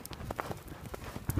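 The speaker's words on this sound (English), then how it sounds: "Yeah, steer your horse." Hooves of ridden horses clip-clop on hard ground in an irregular, fairly close patter, with several sharper knocks near the end and a voice faintly underneath.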